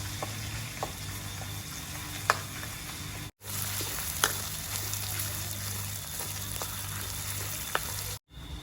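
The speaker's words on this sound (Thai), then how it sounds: "ใส่น้ำมัน แล้วก็เอาพริกแกงลงใช่ไหมในช่างครับ ผัดพริกแกงกันก่อนครับผม" Trat-style curry paste made with shrimp paste stir-fries in hot oil, giving a steady, moderately loud sizzling hiss with a few sharp ticks and two brief dropouts to silence.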